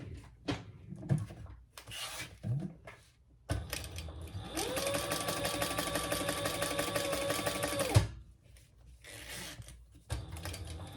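Sewing machine running a steady burst of rapid stitches on a crossbody bag, about three seconds of whirring between quieter handling sounds and repositioning of fabric.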